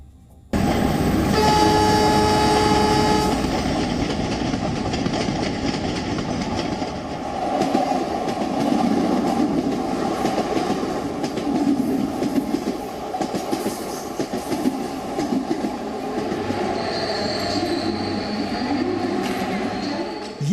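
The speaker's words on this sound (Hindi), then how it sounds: "ये है मुंबई की लोकल।" A Mumbai local commuter train runs steadily for about twenty seconds, its loud continuous rumble and rail clatter filling the whole stretch with faint hum and squeal on top, no voices heard.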